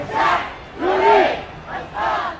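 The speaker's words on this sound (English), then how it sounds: "As we walk, the crowd of protesters gets bigger and bigger." Crowd of protesters chanting in unison, four rhythmic loud bursts of many voices shouting together, fairly close.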